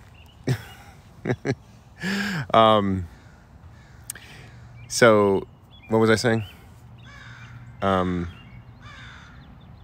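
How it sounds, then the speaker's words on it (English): Crows caw several times nearby outdoors, harsh calls coming singly and in short pairs spaced a few seconds apart, with a person speaking briefly between them. "See, the crows are even mad at you."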